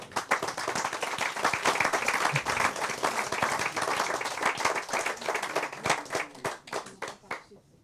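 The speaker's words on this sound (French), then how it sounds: "je pense qu'on peut vous applaudir." Sustained audience applause in a lecture hall after a history talk, many hands clapping densely and evenly for several seconds before thinning out at the end, with a few voices faintly underneath.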